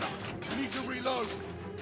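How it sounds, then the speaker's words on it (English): Gun reloading in a video game, a short burst of mechanical clicks and metallic clacks over a busy game soundscape with background voices. "Need to reload."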